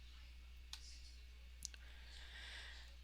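Two sharp computer mouse clicks, the second a quick double, standing alone over a quiet room hum with no talking.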